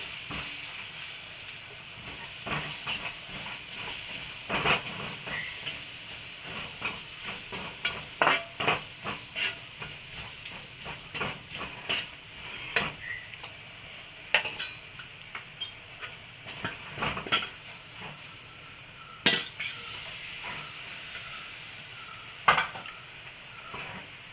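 Soya chunks with chilli and coriander powder being stirred in a hot pan, a steady sizzle broken by frequent sharp spoon scrapes and taps against the metal throughout.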